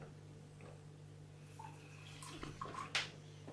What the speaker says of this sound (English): I'm going to drop a little bit of water in